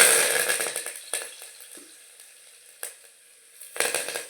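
Cumin, crushed garlic and curry leaves sizzle in hot oil, a loud crackling hiss that fades to a quieter simmer, broken by sharp spattering pops and a fresh burst of sizzling near the end.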